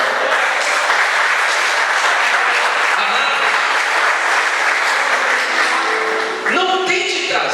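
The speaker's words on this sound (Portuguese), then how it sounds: "Vamos aplaudir o Senhor" Church congregation applauding during a Portuguese-language service, with steady, full clapping that continues throughout and a voice speaking over it toward the end.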